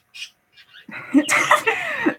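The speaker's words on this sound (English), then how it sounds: "Chirp. The birds are over there." Pet birds chirping indoors: a few short, high chirps at first, then busier, brighter calls mixed with other room noise.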